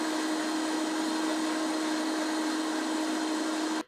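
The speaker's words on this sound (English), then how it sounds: "if you're using a high-speed blender, now is the time to blend this all up" A high-speed blender whirs keto chocolate muffin batter at full power, a loud steady roaring hum with a constant pitched whine, alone, cutting off abruptly at the end.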